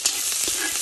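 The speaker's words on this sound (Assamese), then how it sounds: "পিঁয়াজ দি দিলোঁ" Onion goes into a hot kadai and sizzles with a brief hissing burst, close and steady for under a second, with no talking.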